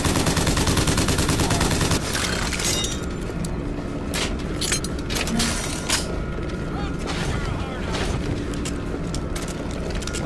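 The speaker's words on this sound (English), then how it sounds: "You get the volley gun here, which I absolutely love." A volley gun fires in the video game Bioshock Infinite, with loud booming launches and mechanical clatter over a dense, continuous wash of game noise.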